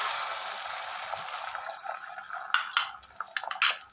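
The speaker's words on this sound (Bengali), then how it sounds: "এখন এই ডিমটা আমি দিয়ে দেবো কড়াইয়ে।" Beaten egg seasoned with a pinch of salt and pepper goes into a hot oiled wok for street-style chicken chow mein, giving a steady close liquid sizzle with a few light clinks of utensil against the pan near the end.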